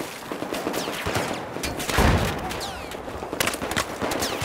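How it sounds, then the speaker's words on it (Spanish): Gunfire in the Battlefield 4 video game: bursts of automatic fire and single shots crackling throughout, with a heavier blast near the middle, dense and fairly close. "Que me sigue disparando, de hecho."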